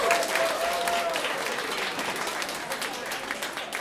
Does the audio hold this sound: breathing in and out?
no